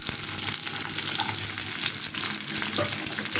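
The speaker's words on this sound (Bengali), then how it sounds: "এখানে আমি এখন ভালোভাবে বাদামি রং করে ভেজে নিচ্ছি" Chopped onion and garlic fry in soybean oil with a loud, busy sizzle and crackle that holds steady throughout, stirred occasionally, with no one speaking.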